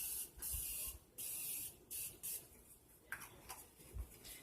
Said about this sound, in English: Being very careful to not put too much setting spray on my eyelids.